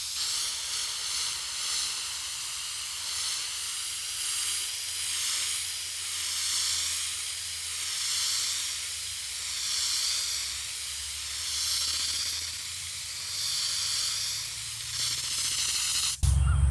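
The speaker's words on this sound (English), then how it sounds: "I put my thumb in front of the gun and the tip like this, and I do a quick squirt." An air spray gun sprays headliner glue in a steady loud hiss, gently pulsing as it sweeps, continuing for over fifteen seconds before a sharp knock at the end.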